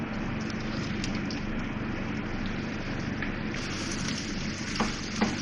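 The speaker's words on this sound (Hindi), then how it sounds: "अब ये प्याज डाल रही हूँ इसमें।" Small chopped onions sizzling in a quarter cup of hot oil for tempering, a continuous close frying hiss with a few faint clinks near the end.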